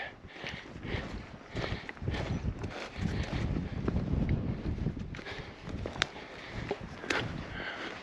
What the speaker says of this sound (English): that wind is going to put me off from camping here